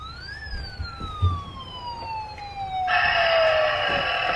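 A toy ambulance gives off a synthetic siren that sweeps down in pitch, then switches to a harsher, buzzier electronic wail. It is loud and close, with faint room noise underneath.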